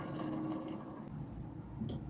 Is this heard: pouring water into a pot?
yes